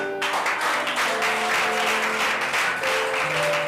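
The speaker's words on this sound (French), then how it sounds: "On peut acclamer le Seigneur pour tout le monde." A church congregation claps in sustained, dense applause, with sung or held voices humming beneath the clapping throughout.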